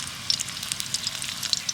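Pieces fry in hot white oil close up, with a constant crackling sizzle and scattered sharp pops.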